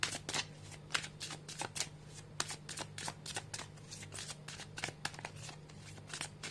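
Tarot guidance cards are shuffled in a quick run of crisp riffling flicks, a steady rhythmic patter of close, fairly soft card slaps over a faint background hum.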